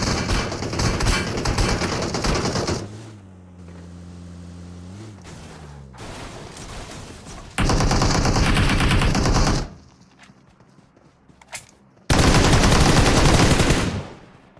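Bursts of automatic gunfire from a video game, loud rapid volleys in several separate blasts with quieter gaps and a steady tonal hum between them.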